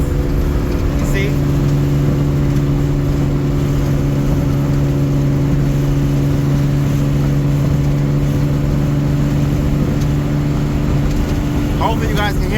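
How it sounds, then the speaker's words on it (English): Loud, steady engine drone heard from inside a third-generation Mitsubishi Eclipse while driving, a constant low hum with road roar throughout, and someone talking over it. "Hopefully you guys can hear me because this car is loud."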